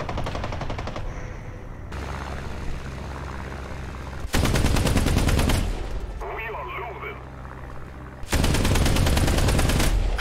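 Bursts of rapid automatic gunfire from a vehicle-mounted gun in a Soviet tank or armored combat video game, loud repeated volleys in several long stretches separated by quieter engine rumble and brief pauses.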